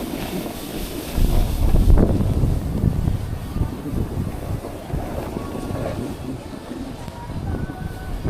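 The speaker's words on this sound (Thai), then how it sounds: "แต่ลมก็ยังแรงอยู่บ้าง" Strong wind gusting across a snowboard slope at Shizukuishi, Iwate, Japan, a steady broadband roar buffeting the microphone that swells around the second second and then stays loud and continuous, with no talking.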